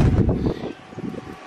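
Gusty wind buffets a microphone with low rumbling bursts, strong at first then easing into lighter, intermittent gusts.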